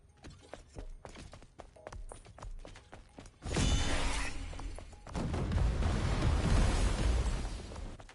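A robot enemy in the action game Stellar Blade opens fire, first rapid crackling shots in a quick string, then sustained loud bursts of gunfire and impacts with no talking.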